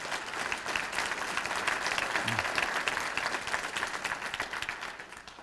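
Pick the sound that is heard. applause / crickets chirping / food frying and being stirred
applause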